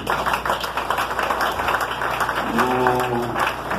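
Audience applause at a pastor's investiture ceremony, dense sustained clapping from a crowd close by, running throughout at a steady level, with a brief tone rising near the end.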